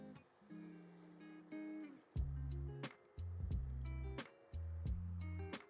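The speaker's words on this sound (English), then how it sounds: "add enough water to cover the beans." Water is poured over black-eyed peas in a pot in several short bursts, gurgling and splashing up close, with brief pauses between pours.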